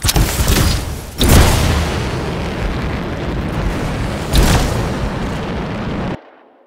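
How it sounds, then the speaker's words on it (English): Explosions in the video game Anthem give a loud roaring blast with two sharp booming onsets and a sustained rumbling tail that cuts off abruptly. "Explosion."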